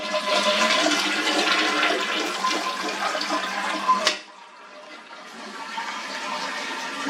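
A toilet flushes loudly with rushing water for about four seconds, then a quieter refill hiss continues, close by and without speech.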